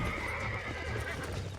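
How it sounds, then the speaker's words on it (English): A horse in the video game Red Dead Redemption whinnies in a sustained, strained cry, close and fairly loud, over a steady bed of game ambience with faint hoof movement. "I'm sure he's upset that I'm grabbing his mane."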